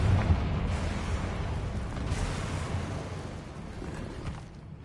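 A Confringo fire spell blasts in Hogwarts Legacy, a broad, loud rumbling burst with deep low-end roar that sustains and slowly fades over several seconds.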